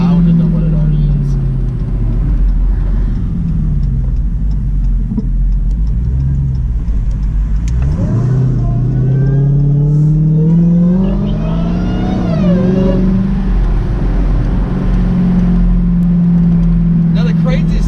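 A supercharged 2017 Dodge Challenger Hellcat engine rumbles loudly, then revs up with rising, sweeping tones and a supercharger whine before settling back, heard close and continuous with a voice talking over it.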